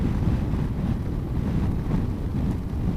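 Continuous blustery wind buffeting over a rider on a Honda ST1100 motorcycle at about 70 mph, a dense roaring rush that stays loud and steady throughout with no talking.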